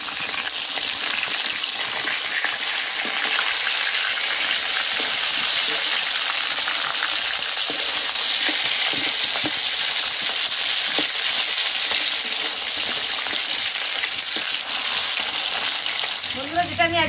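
Fish frying in hot mustard oil, a dense steady sizzle and crackle filling the whole stretch, close and loud with no talking over it, ending in a few brief bubbling pops.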